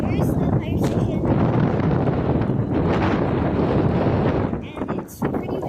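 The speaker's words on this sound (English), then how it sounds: "And it's pretty windy out." Steady wind buffets the microphone on an outdoor bike ride, a loud continuous rumble that persists throughout and eases briefly near the end, with no speech over it.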